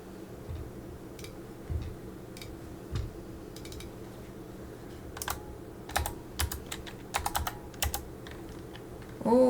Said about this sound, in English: It's hard to type with one finger because my keyboard is over off to the side.